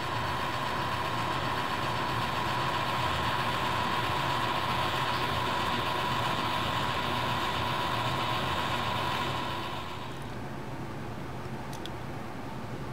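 A model locomotive running in reverse at speed step 1 gives a steady, faint mechanical hum with a constant whine, unbroken for most of the stretch before dropping to a quieter level near the end.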